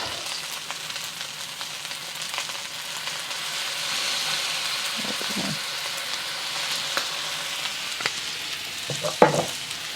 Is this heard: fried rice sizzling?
yes